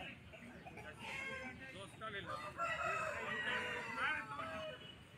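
Roosters crow at a rural rooster market in Jhargram, West Bengal, with several shrill cock-a-doodle-doo calls over a busy crowd and the clucks of other fowl.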